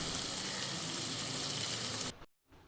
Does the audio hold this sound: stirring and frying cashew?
yes